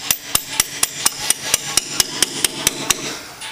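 A hammer taps up on an axle part underneath a 2001 Ford Expedition during axle replacement, striking about fourteen sharp metallic blows at a steady, quick rhythm, close and clear.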